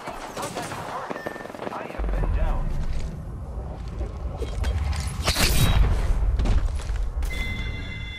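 In Apex Legends gameplay, gunfire crackles and then a frag grenade blast booms with a deep rumble midway, loud and close amid ongoing shooting and a voice speaking.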